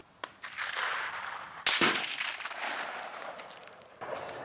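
A single K31 rifle shot fires at an outdoor range, one sharp loud crack followed by a decaying echo, with faint background noise before and after.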